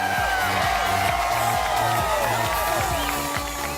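A large crowd cheers and whoops loudly and continuously at a beer judging event, with a steady roar of voices and scattered shouts throughout.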